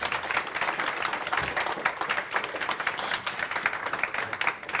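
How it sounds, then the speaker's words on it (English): An audience at a business talk on investing and growth applauds, a moderate, even patter of clapping from a modest crowd that carries steadily with no voices over it. "Let's give Naz a round of applause."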